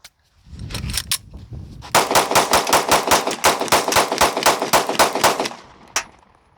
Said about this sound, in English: I don't plan on stopping shooting these.